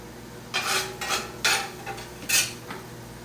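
Cooked onions being scooped out of a pan into a container with a utensil, producing several short scraping, clinking bursts in an uneven rhythm, close and moderately loud.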